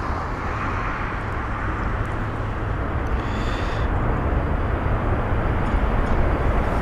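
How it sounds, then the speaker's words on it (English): An Air India Boeing 787 Dreamliner passes with a loud, broad, continuous roar of jet engines, steady and slightly swelling over several seconds at Heathrow, with no talk over it. "this is the Air India 787 Dreamliner from Delhi"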